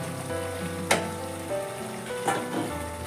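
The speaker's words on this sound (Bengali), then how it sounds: "সেই গরম জলটা ওর মধ্যে আমি দিয়ে দিচ্ছি।" Hot water hits browned mutton korma in a pan, setting off a steady sizzle and bubbling, with two brief louder splashes as more water goes in.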